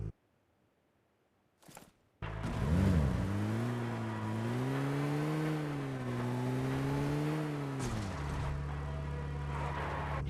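A vehicle's engine drones steadily in PUBG Mobile gameplay, revving up after a brief pause and holding a rising and falling pitch as it drives on, loud and close with no talk over it.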